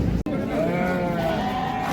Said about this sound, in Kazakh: Қозылы қойлар